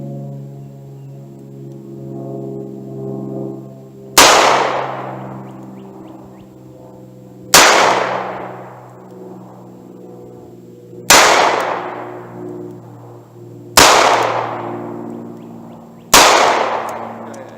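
.38 Special pocket revolver fired at a long-range target outdoors: five loud, sharp reports spaced about three seconds apart, each with a long decaying ring, over a steady low hum.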